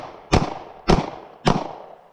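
Three sharp, loud Taurus G2C pistol shots fired at a target, evenly spaced about half a second apart, each with a brief decaying tail and no talk over them.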